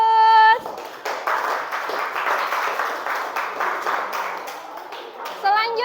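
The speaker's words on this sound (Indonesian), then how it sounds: "Kasih aplaus" Classroom applause from a group of students, a dense patter of clapping lasting several seconds between short bursts of speech at the start and end.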